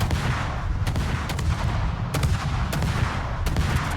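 Naval guns firing armor-piercing shells in World of Warships: several loud booming salvos at irregular intervals over a constant low rumble of sea and engine noise, no voices.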